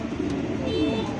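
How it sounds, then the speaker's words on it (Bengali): A racer pigeon gives a low, soft, rolling coo up close at a pigeon market, steady throughout the short moment with little else around it. "ও ডাকে ও আবার আবার জিগায় রেসার কবুতর ডাকলে ভালো লাগে"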